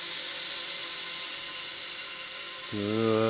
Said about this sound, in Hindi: आया कहाँ से ड्रोन?